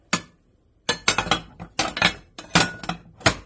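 Breakable ceramic plates and cups, including pink plates, clink sharply as they are handled and set down, a series of close, bright knocks in uneven clusters with short silences between.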